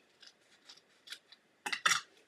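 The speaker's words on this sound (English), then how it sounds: "now the scissors, we may need to cut a very" Scissors snip a thin strip of craft dimensional foam, giving a few soft, close cuts followed by two louder, crisper snips at the end in an otherwise quiet room.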